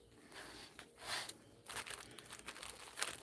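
A roll of tape handled up close during a live stream, giving a crumpling, crinkling rustle with short tearing bursts. It sounds moderately loud and fairly continuous over a few seconds, with no one talking.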